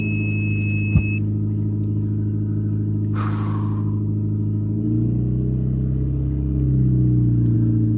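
A car engine turns over and settles into a steady low idle rumble, close and continuous, rising slightly toward the end with no talking.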